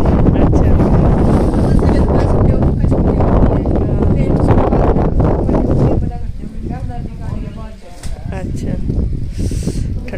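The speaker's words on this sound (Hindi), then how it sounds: "ठंडी हवा चल रही है" Cold wind buffets an outdoor microphone in a village setting, roaring loudly at first and then easing into softer gusts while people talk over it.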